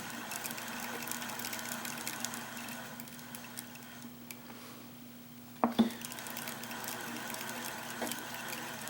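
Baitcasting fishing reel cranked at a steady pace to spool on line, a soft continuous whirring and ticking purr with a brief clack near the end.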